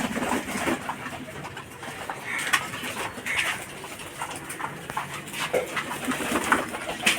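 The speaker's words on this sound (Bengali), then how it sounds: "আর এইখানে এই কবুতরগুলো আছে" Pigeons kept in a dove house coo softly and continuously, with a few sharper calls and rustles scattered through the steady murmur; no one speaks.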